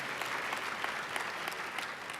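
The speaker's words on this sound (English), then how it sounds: "So please give all of these sponsors, the top sponsors, a round of applause" A gala dinner audience at the 2019 Jay Robinson Award Gala gives a dense, even round of applause for the event's sponsors, with no break for over two seconds.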